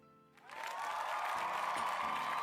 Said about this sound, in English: I have to add, I've got to add the applause.